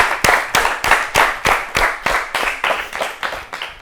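An audience at a children's TV quiz competition claps steadily, about ten sharp, evenly spaced hand claps running close and loud, without talk.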